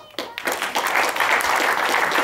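Applause at a film press meet rises after a brief quiet moment into dense, sustained clapping from a room of people, filling the rest of the moment at steady loudness.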